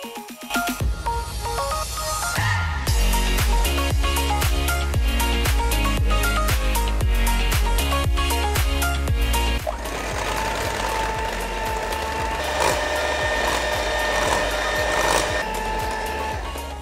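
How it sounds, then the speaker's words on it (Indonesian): Rich cream mixed with cold water is whisked with a loud, steady, whirring mechanical drone that pulses rapidly and shifts pitch partway through. "Nah, kita mulai mengocok."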